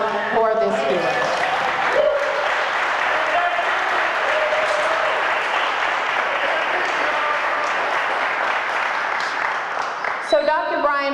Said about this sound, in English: Please give some applause for this hero.